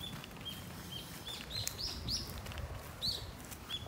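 A small bird chirps in a park in Japan, giving thin, high, repeated calls spaced every half second or so, faint against steady outdoor background noise.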